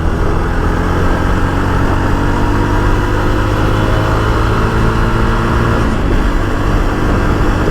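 Jawa Perak BS6 motorcycle engine held around 4000 rpm, a loud, steady, throbbing mechanical drone close by, with a brief shift in tone near the end.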